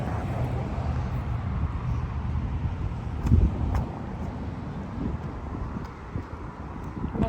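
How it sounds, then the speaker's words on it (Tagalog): Steady breeze rushes past the microphone on the Leduc Common walking trail in Alberta in the evening, a moderate continuous low rumble with distant traffic beneath it. "Masarap ang simoy ng hangin ngayon."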